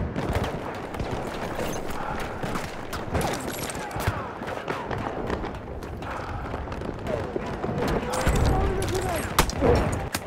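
An anti-tank gun fires in the Battlefield 1 video game amid a dense battle, with rapid overlapping shots, thumps and booms running continuously and loudly throughout.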